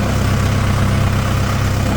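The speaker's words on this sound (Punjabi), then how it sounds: "ਆ ਗਿਆ ਦੂਜਾ ਟਰੈਕਟਰ ਵੀ ਆਪਣਾ" A tractor engine in a potato field runs with a steady, loud low rumble and drone, holding an even level throughout without any breaks.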